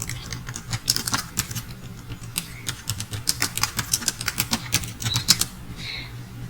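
Quick keyboard typing while entering title text in Filmora editing software: a rapid, uneven run of crisp clicks that grows denser before stopping, close and fairly loud, with no speech.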